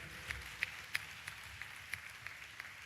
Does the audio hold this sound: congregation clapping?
yes